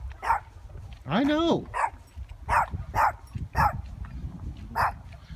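A big dog barks and whimpers several times in short close bursts, one longer whining yelp among them, while someone talks over it.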